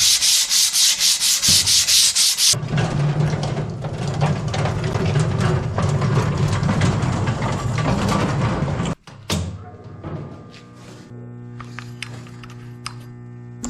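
Sandpaper rubbed across a sheet metal smoke stack in a welding shop, a steady loud scratchy rasp lasting several seconds, then a sharp clank and quieter clatter and metallic knocks.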